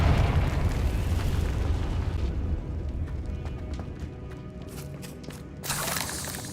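A Confringo blast spell in Hogwarts Legacy erupts as a loud, rumbling explosion that slowly fades over several seconds, with a fresh burst of crackling noise near the end.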